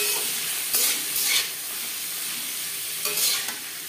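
Carrot, capsicum and beans stir-fry in hot oil with whole spices for fried rice, giving a steady close sizzle broken by a few brief scraping stirs of the spatula.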